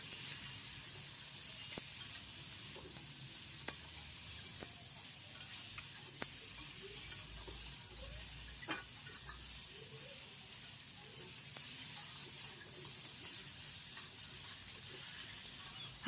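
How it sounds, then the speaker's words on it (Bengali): Eggplant pieces with salt and turmeric frying in a pan, a soft steady sizzle with sparse clicks and scrapes of stirring, fairly quiet throughout. "এবার ভালো করে নেড়ে চেড়ে বেগুনগুলোকে সুন্দরভাবে ভেজে নেব।"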